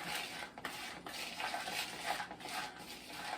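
Coleslaw dressed with mayonnaise being stirred in a bowl, a steady close-up wet mixing and scraping sound with soft clinks of the utensil against the bowl, no talking.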